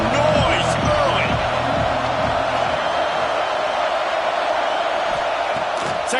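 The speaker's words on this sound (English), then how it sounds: "This crowd bringing the energy and noise early." A packed stadium crowd roars at an Ohio State vs Florida football game, a dense continuous wall of noise with whoops and yells, loud and steady throughout.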